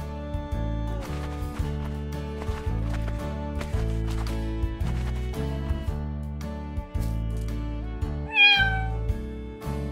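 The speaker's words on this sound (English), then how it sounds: "Cat." A single cat meows once near the end, a short rising-then-falling cry sounding clearly over steady background music.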